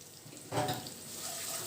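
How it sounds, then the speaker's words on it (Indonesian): Garlic is sautéed in a hot pan for marinara spaghetti, a soft sizzle that flares briefly as it goes in, then continues as a faint steady frying hiss. "Kalau sudah panas, kita saute bawang putih dulu."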